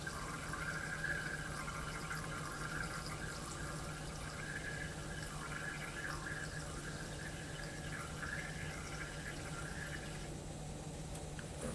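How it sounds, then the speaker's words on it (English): Demineralized water pours steadily into a honey sample in a lab container, a continuous trickling and filling sound that runs at an even level throughout under a constant background hum. "add 20 milliliters mineralized water to it"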